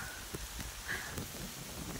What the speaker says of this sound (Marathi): खूप मोठा पाऊस यायला लागला